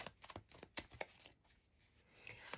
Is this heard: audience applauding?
no